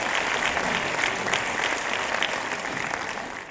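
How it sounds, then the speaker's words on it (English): Applause for Kathak dancers at a school annual prize day, a thick continuous clapping from the audience that holds steady and tapers slightly toward the end of the short stretch. "Let's appreciate them with tremendous round of applause."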